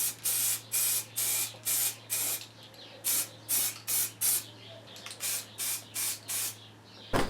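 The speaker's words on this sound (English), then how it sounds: "Just going to throw some paint on there to stop it rusting" An aerosol can sprays paint onto a Honda CB500 motorcycle frame in about fourteen short, evenly spaced hissing bursts, loud and close, with brief gaps between each.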